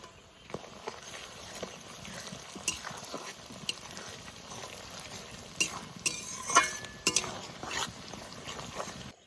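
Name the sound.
fish fat frying in a wok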